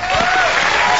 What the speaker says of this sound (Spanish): Un aplauso para el hipo de Sabino.